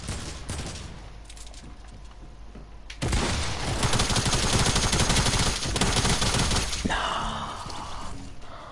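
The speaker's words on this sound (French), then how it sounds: "le pompe tactique il est trop fort" Tactical pump shotgun fire in a video game, a loud sustained barrage of booming blasts and gunfire for several seconds after a quieter opening stretch, then tapering off.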